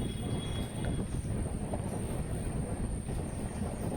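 A passenger train runs along the railway track in Andhra Pradesh, a loud, steady rumble and rattle of wheels heard close up from on board, with no talking.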